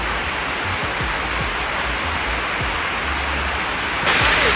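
Heavy rain pours steadily in Sri Lanka, a dense, even hiss close by with a few low thumps and no voices.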